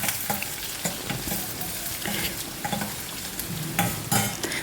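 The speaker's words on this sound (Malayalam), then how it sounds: "നമുക്ക് നന്നായിട്ടൊന്ന് ഇളക്കിയിട്ട് ഇതൊന്ന് ഫ്രൈ ആവട്ടെ" Steady sizzling of green chilli, ginger, dried chilli and curry leaves frying in a pan for oats upma, with repeated scraping stirs of a spoon over it, close and continuous, no talking.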